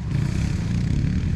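Stock KTM 390 Adventure motorcycle ridden close by, a steady loud engine drone with low rumble and some clatter, continuous and without voices.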